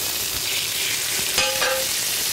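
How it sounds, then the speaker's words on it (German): Quail searing in a hot pan with a knob of butter added, giving a steady close sizzle with a brief crackling burst partway through, no voices. "Wenn das Ganze angebraten ist, geben wir so ein Stückchen Butter mit dazu."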